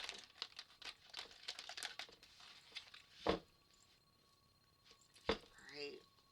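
A burst of papery riffling as tarot cards are shuffled, two sharp flurries standing out in a quiet room, with soft handling rustles in between.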